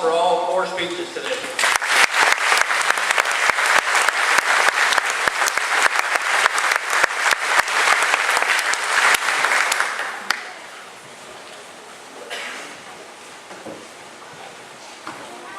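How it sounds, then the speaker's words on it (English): A graduation ceremony audience bursts into sustained, dense applause that lasts about eight seconds and then fades, after which a voice speaks over the hall's quiet. "I think we need to give another round of applause for all 4 speeches today."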